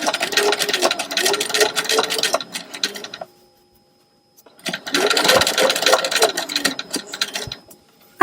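Sewing machine stitching fabric and running over a pin, heard as two bursts of rapid mechanical whirring and clatter separated by a brief silent pause.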